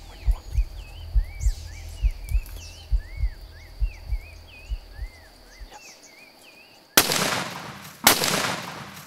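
Two loud, sharp rifle shots ring out about a second apart near the end, during a savanna buffalo hunt in Benin, following a stretch of rhythmic low thumps and chirping birds outdoors.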